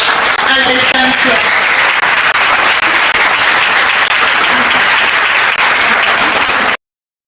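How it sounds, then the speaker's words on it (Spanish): Loud, dense applause for a speaker at a conference session, sustained clapping with talk mixed in, cutting off abruptly near the end. "Un fuerte aplauso a la distancia."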